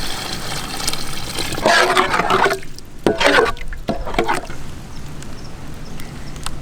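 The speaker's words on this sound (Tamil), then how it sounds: "தேவையான அளவு தண்ணி சேர்த்துக்கணுமுக்கா." Water splashes and gurgles into a pot of rabbit curry masala in a short pour, followed by quieter bubbling and a low background hiss.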